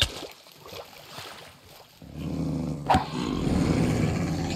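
Dogs growl and snarl in Dota 2's Aghanim's Labyrinth, a rough low rumble that swells into a steady roar with a brief sharp burst midway, mixed with game ambience and splashing water.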